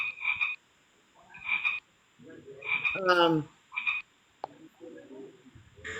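A frog-croak sound effect triggered by a typing device gives several short, raspy croaks in spaced bursts, with a brief sharp click near the end.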